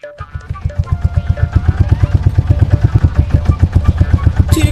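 A cartoon boat engine turns over and settles into a fast, even putter of loud, regular beats that carry on steadily from start to end, close by, with a brief rise at the very end.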